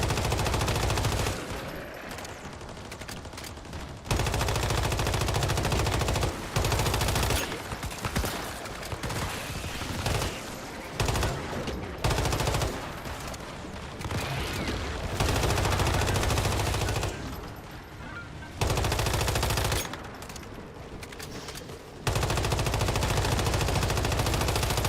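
Automatic weapon fire in the video game Stalker 2 comes in repeated loud bursts separated by short gaps, with rapid rattling shots dominating the mix and no speech.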